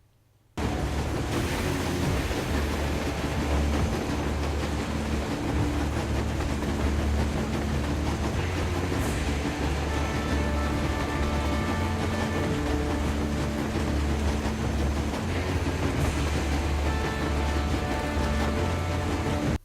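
Train wheels rolling steadily over rail tracks on the Metro: Exodus title screen, a continuous loud low rumble with a rhythmic clatter that runs unbroken for the full length, mixed with ambient background texture.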